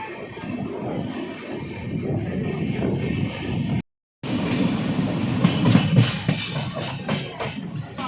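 Jan Shatabdi Express passenger train rolling on rails near Gurugram toward Delhi, a steady close rumble with rhythmic wheel clatter throughout, broken by a brief dropout midway.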